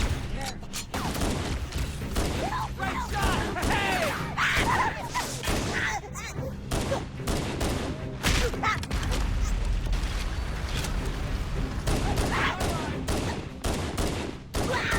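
Dense gunfire in Halo: Combat Evolved Anniversary, continuous bursts of shots and impacts laying down cover, close and loud with rattling mechanical clatter throughout, voices briefly heard amid the fighting.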